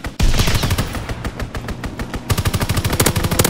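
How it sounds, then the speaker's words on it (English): Fighter plane strafing run in Call of Duty WWII, heavy machine-gun fire in a fast rattling stream after a sharp opening blast, picking up a harder, more evenly spaced rhythm in the second half. "Strafing the target."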